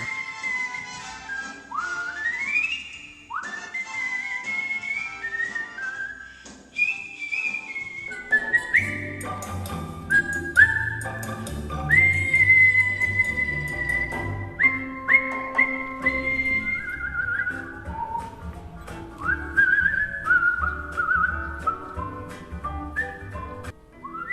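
A person whistling a melodic tune as a performance, clear sustained tones sliding and trilling, with musical accompaniment entering partway through and continuing beneath the whistled line.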